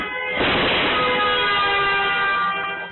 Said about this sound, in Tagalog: Biglang may malakas na kalabog at busina.